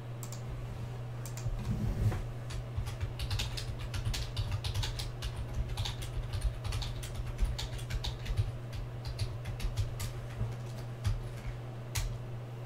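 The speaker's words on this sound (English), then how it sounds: "A little drunken typing over there, Rick?" Quick, continuous clicking of computer keyboard keys, close and fairly steady, runs over a constant low electrical hum with no speech.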